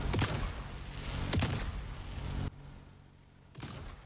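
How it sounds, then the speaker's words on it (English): The small flat cannon in its default version fires in the building game Trailmakers, two loud, punchy booming shots about a second apart, each trailing off into rumble, then a brief silence before another burst begins. "Here's the old, or the default one."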